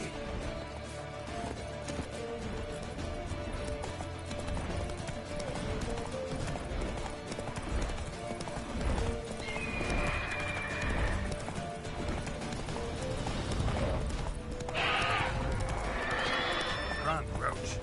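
Geralt's horse Roach galloping in The Witcher 3: Wild Hunt, rapid pounding hoofbeats with neighs, under game music, shouting voices and a clash of action.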